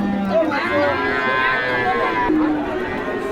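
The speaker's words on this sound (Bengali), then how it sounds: "আমরা এখন আছি সার বাছুরের বাজারে" Young Friesian bull calves mooing at a traditional livestock market in Joypurhat, with several overlapping drawn-out calls close by over a busy crowd murmur.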